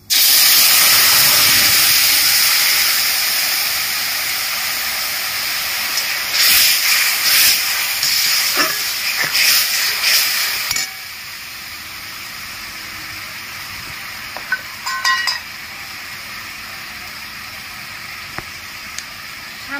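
Tamarind pulp hits hot oil tempered with mustard seeds, setting off a loud, close hiss of sizzling that gradually settles into a softer, steady fry with a few brief crackles.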